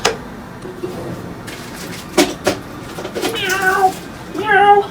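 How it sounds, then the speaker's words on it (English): A house cat meows several times up close, the calls rising toward the end, with a few soft knocks and shuffles between them. "Down, kitty, down."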